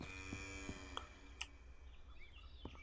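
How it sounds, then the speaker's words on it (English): A cow moos in the video game Lawnmower Simulator, a low drawn-out call over steady mower engine hum, with a few faint clicks and knocks along the way. "Looks like the world's biggest cow."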